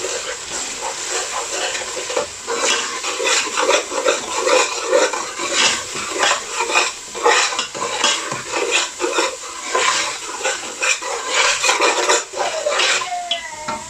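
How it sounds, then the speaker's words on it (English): Oil being stirred in a family-size cooking pot for chicken dhansak, with repeated scraping and sizzling strokes in a steady, close rhythm. "Then stir it again."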